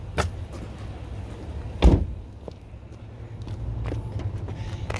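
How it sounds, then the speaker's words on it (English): Trunk latch of a 2015 Honda Accord EX-L releasing with a single sharp thunk, then a softer clunk from the lid and quiet outdoor ambience with faint low rumble. "I'll go ahead and pop the trunk as well."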